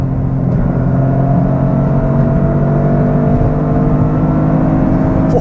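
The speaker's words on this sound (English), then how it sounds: "God, I love the way it holds its revs." A 2025 Toyota GR engine holds high revs, a loud, steady droning whir with a sustained engine tone that barely changes, heard from inside the car with no talk.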